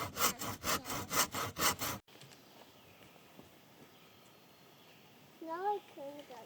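Hand saw cutting through wood for a picnic table, a run of loud rhythmic back-and-forth strokes for about two seconds, then a quiet room with faint shuffling and brief talk near the end.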